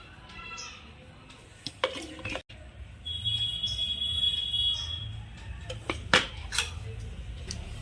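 Fried rice with meat, cashews, raisins and ghee being mixed, with scraping and clinking of a utensil against the pot in irregular bursts and a faint high whine partway through.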